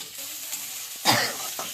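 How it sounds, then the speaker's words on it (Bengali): Chopped garlic, ginger and chilli sizzling in a frying pan as they are stirred, a constant crackling fry with a louder scrape-and-sizzle burst near the end, no one talking. "রসুন কুচি, আদা কুচি নাড়তে থাকছি, নেড়ে কাঁচা গন্ধটা"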